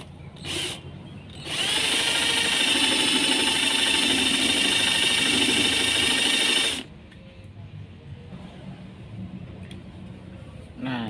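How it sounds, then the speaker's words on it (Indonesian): A power drill whines loudly and steadily for about five seconds after a brief start, drilling into a plastic rice cooker lid, then stops, leaving quiet handling sounds. "dengan dibor gini, kemudian kita dorong bornya ke arah depan ini"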